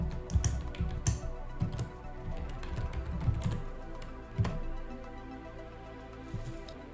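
Keys on a computer keyboard tapped in short irregular bursts, a quick run of clicks as a short terminal command is entered, close and clear with no talking.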